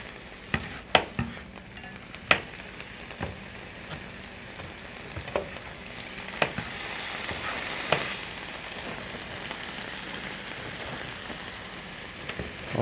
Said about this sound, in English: Only cook the hamburger until there's no more pink to see.